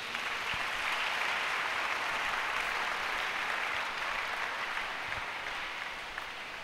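A church congregation claps and cheers, a dense, continuous roar of many hands that stays steady and even for the whole stretch, slightly distant and without any clear single voice above it.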